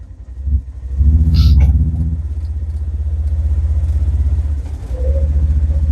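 A four-wheel-drive vehicle's engine rumbles steadily while driving through a muddy bottom, loud and close throughout with a brief rise near the start, no talk.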